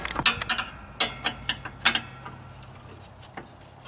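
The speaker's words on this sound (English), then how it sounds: "Now, tighten these bolts back up." A ratchet wrench snugs down bolts on the hitch of a Craftsman (MTD) lawn tractor, giving a quick run of close, sharp clicking bursts in the first two seconds before fading to scattered faint clicks.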